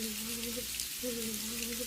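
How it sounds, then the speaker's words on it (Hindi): Heavy rain used as a sound effect in a Hindi village story, a steady hiss of falling rain throughout, with a faint tonal hum that drops out briefly near the middle. "कुछ दिनों बाद गांव में भयंकर बारिश शुरू हो गई"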